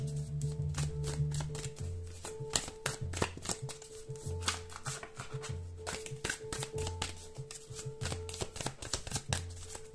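Tarot cards being shuffled by hand ahead of a reading, with a steady run of crisp riffling and flicking over ten seconds, close and clear, with a faint low hum underneath.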